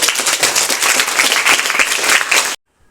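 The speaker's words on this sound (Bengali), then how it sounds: "তানভির জন্য একটা হাত তালি হবে" A room of schoolchildren at a model school claps loudly in dense, continuous applause for a few seconds, then stops abruptly into silence.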